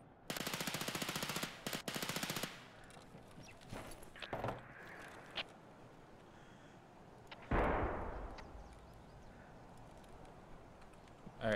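Automatic gunfire in the multiplayer shooter Escape from Tarkov Arena, with two loud rapid bursts near the start followed by scattered single shots and impacts, then a heavy blast or burst later on.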